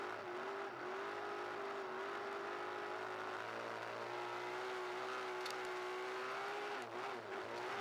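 A dirt-track race car's engine drones loud and steady on a muddy oval, a sustained high-revving roar with slight pitch dips near the end, close and continuous with no talk.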